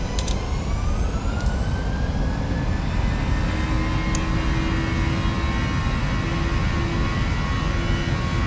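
Boeing 737NGX jet engines spooling up to takeoff thrust in a PMDG flight simulator, a steady loud roar with rising whining tones, heard alone and close.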